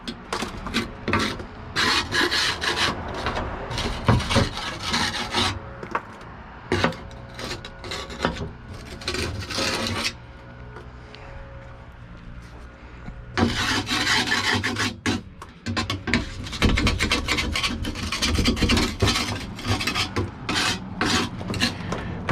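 Plastic is scraped off the frame of a Honda 400EX ATV that sat for years, making loud, close, rasping strokes in rapid bursts with a brief pause partway through.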